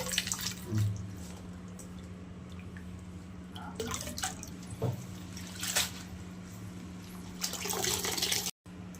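Spring onion greens washed in water, with intermittent splashing, sloshing and dripping over a steady low hum, louder bursts near the start and end.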